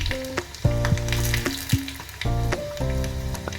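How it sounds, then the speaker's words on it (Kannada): Mustard seeds and crushed garlic sizzle and crackle in hot oil in a pan, with scattered pops, while steady tonal humming sounds run through the background. "ಈಗ ಸಾಸಿವೆ ಚಟಪಟ ಅಂತ ಜಜ್ಜಿದಂಥ ಬೆಳ್ಳುಳ್ಳಿ ಹಾಕ್ತೀನಿ"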